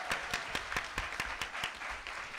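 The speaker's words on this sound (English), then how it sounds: "One more round of applause for all of our panelists." A Comic Con panel audience clapping for the panelists: a modest, fairly faint round of applause with distinct individual claps in a loose rhythm.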